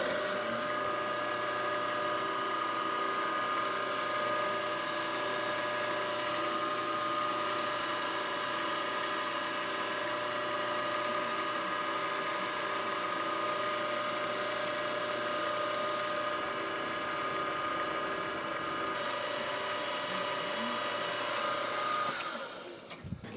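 A lathe runs steadily with a Hemingway knurling tool working the stock, a continuous close mechanical whir and gritty rolling chatter that holds for over twenty seconds before stopping abruptly.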